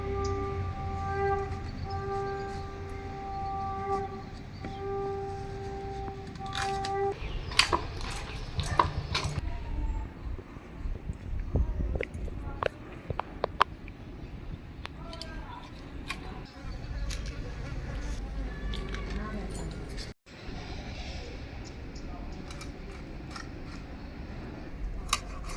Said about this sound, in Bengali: মাছটাকে কেটে নিই।